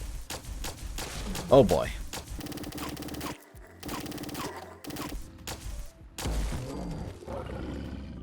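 A plasma pistol in Fallout 4 fires rapid repeated shots at a Deathclaw, bursts clustered with brief gaps, a creature roar mixed in, and someone talking over the gunfire.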